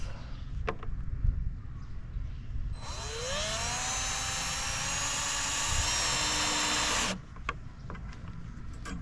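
A power drill whirs steadily for about four seconds while mounting a decorative mailbox support, its pitch rising as it spins up, with shuffling and background noise before and after.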